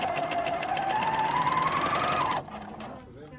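A Bernina L460 overlocker stitching a rolled hem on fabric, a steady fast mechanical whir with a rising pitch that runs for over two seconds, then stops abruptly, leaving faint room noise.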